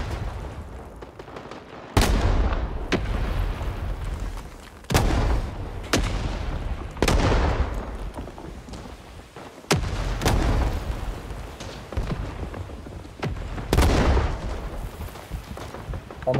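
Grenade explosions in the Vietnam War shooter Rising Storm 2: Vietnam, with heavy booms landing again and again across a battlefield among ongoing gunfire, loud and near, with no talk.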